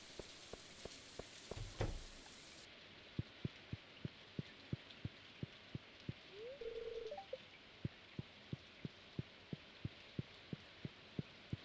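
Rain falls in the video game Stardew Valley as a soft, steady patter, with a regular ticking pulse repeating throughout and a brief low rumble partway through.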